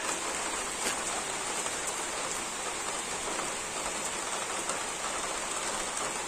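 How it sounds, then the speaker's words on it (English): Steady rain pours down without a break, a dense, even hiss of drops striking surfaces nearby, with no voices over it. "let it rain"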